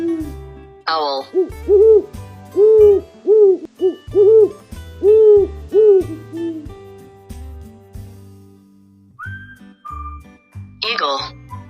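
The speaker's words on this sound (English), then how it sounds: "Owl." An owl hoots in a steady series of clear, rounded calls lasting several seconds, with short bits of voice before and after.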